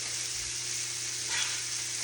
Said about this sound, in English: we're going to let that kind of just simmer and cook down